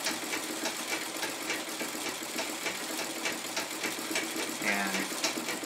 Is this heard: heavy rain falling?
no